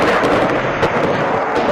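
Dense battlefield gunfire and artillery at sundown in a June 2006 combat firefight, a continuous loud wash of rumbling blasts and cracks with sharper reports standing out, no pauses.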